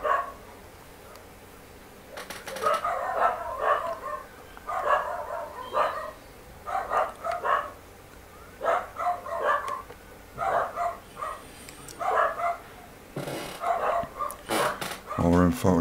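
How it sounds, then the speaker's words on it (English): Neighbouring dogs bark repeatedly in irregular volleys through much of the stretch, mid-distance and moderately loud, while someone talks over them indoors. "My apologies for the next door's dogs barking their heads off."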